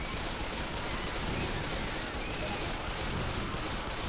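A magazine is emptied in Left 4 Dead 2 as dense, continuous rapid gunfire, a steady unbroken rattle of shots at moderate level filling the whole stretch without pauses.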